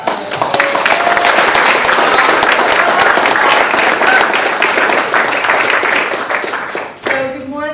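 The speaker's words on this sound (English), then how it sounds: "let's give Amanda a round of applause" Loud, sustained audience applause fills a panel discussion room for several seconds, dense clapping from a full crowd that tapers abruptly near the end as a voice begins.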